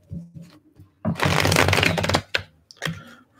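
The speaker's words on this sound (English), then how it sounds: "Let's do one more shuffle." Tarot cards being shuffled: soft taps and handling, then a loud riffling burst of about a second, followed by a couple of short snaps as the deck settles.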